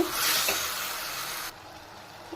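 Mutton frying in a pan with turmeric powder for a Hosakote-style mutton biryani: a loud, close, hissing sizzle that drops abruptly to a quieter hiss partway through.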